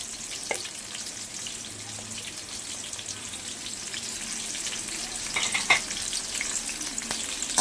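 Onion and green chillies frying in oil in a pan for street-style egg noodles, a continuous crackling sizzle with occasional stirring clicks and scrapes, close and moderately quiet, no voices.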